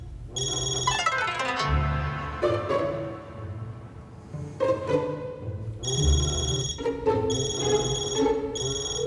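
A telephone ringtone repeats in bright melodic bursts, with a pause partway through, ringing loudly and unanswered in an animated scene.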